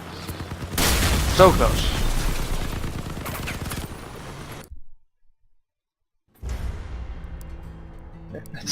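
Rapid weapon fire from a booster-equipped aircraft build in the Crossout vehicle combat game crackles as a dense, loud burst over several seconds. A player talks over it, then silence falls before quieter game sounds return.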